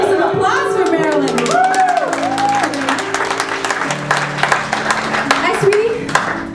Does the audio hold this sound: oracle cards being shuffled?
no